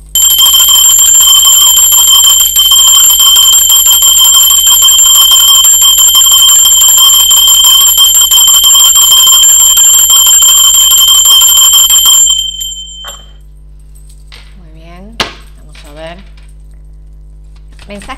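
A bell rings loudly and continuously for about twelve seconds with a bright, shimmering sustained tone, then cuts off, leaving faint clinks and a soft voice in the quiet afterward.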